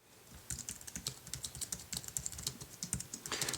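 Rapid typing on a keyboard connected to an iPhone 3G: a near, continuous stream of crisp key clicks with uneven rhythm and a few heavier strokes, with no voices.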